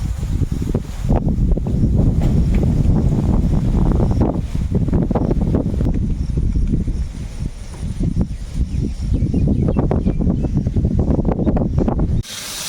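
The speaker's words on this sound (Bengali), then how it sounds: "বাইরে এত সুন্দর হাওয়া" Wind blows outdoors in a garden setting, buffeting the microphone with loud, rumbling gusts that rise and fall throughout, with brief lulls between surges.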